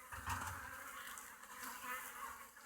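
Honeybees in a hive buzz in a dense, steady hum, faint and close, with a few individual insects droning past.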